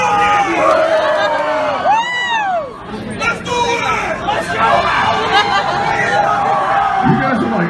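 A loud crowd at a concert roars with dense chatter, shouts and whoops, sustained and close throughout.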